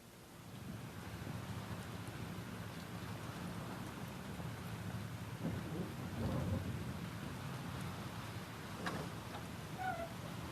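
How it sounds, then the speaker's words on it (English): A steady thunderstorm from the video game Life Is Strange, with constant heavy rain and low rumbling thunder swelling briefly around the middle, faint crackles and distant tones over the wash, no speech. "This storm is real."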